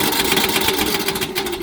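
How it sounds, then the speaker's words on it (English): Old swamp cooler motor runs with a harsh, rhythmic scraping as its squirrel cage fan rubs against a loose part, loud and close throughout the short stretch. "Whenever it's running, the suction pulls it up to the edge of the squirrel cage, and that's what's making that terrible, awful, god-awful noise."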